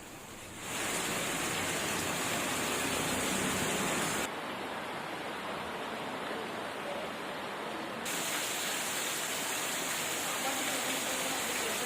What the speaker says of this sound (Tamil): நேற்று கனமழை கொட்டியது